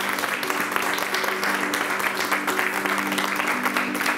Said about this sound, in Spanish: Un fuerte aplauso para Javier Mínguez.